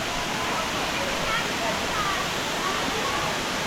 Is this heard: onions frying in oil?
no